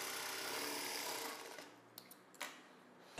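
A sewing machine stitches a blouse from the tucks near the armhole, a steady loud whir running for about a second and a half before stopping, followed by a few faint clicks and fabric handling sounds.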